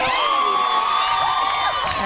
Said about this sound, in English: the Colac crowd is getting a little bit excited